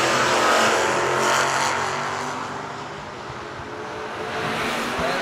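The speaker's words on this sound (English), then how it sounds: "going to leave first in his Chevrolet S10" At a fall bracket drag racing event, a Chevrolet S10 race car leaves the line with a loud, broad engine roar that surges, dips slightly as it pulls away, then swells again, with no talk heard.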